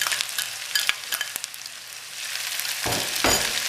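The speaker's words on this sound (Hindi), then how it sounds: "लहसुन अदरक का पेस्ट डाल के 1 मिनट के लिए इसको भून लिया प्याज के साथ" Onions fry with garlic-ginger paste for a dhaba-style chana dal, giving a dense, steady sizzle broken by a few sharp clicks and two louder stirring scrapes near the end.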